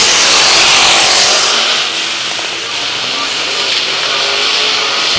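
Late model race cars roar around Midway Speedway, a loud dense engine wash with hissing texture that swells and eases as the pack passes, filling the whole stretch.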